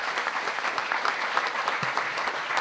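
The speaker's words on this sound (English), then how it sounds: "Let's have a hand for all the folks who made this possible here tonight." An audience applauds at a live midwinter folk concert, with dense, steady clapping throughout that sounds moderately close, with no voices over it.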